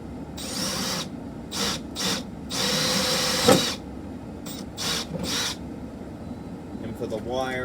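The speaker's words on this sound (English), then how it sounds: "let's drill a hole right" A power drill bores a hole in a wall for a DSC burglar alarm keypad, running in several short bursts of varying length with pauses between them, close and fairly loud.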